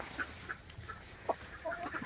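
Several hens cluck softly in short, scattered calls against a quiet outdoor background.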